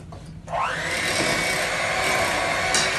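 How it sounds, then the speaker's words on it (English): After a brief quiet start, a blender mixing cake batter with flour whirs up to a steady high-pitched motor drone that keeps running, fairly close and loud. "now you can turn on the blender"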